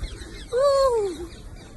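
A parrot perched on a person's head gives a single rising-then-falling whistled call lasting under a second, close and clear against a quiet background.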